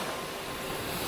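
Ocean waves wash onto a beach in the British Virgin Islands, a steady broad hiss of surf with some wind, continuous and moderately loud.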